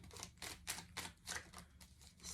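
Tarot cards are shuffled in quick, soft riffling bursts, about seven short papery flutters in a steady rhythm, faint and close with no talk.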